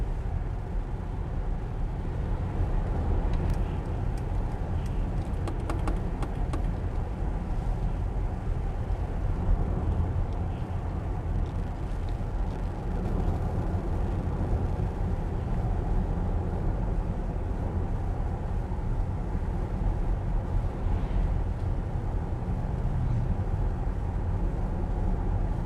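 A Mercedes EQS 450+ electric car coasting downhill, heard from inside as a steady low road and tyre rumble with a faint whine, continuous and even throughout with no talking.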